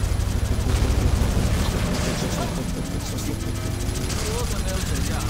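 Gunfire in the online shooter XShot during a vehicle-battle mode, a dense, continuous fusillade of rapid shots and booms that persists throughout, with a player talking over it.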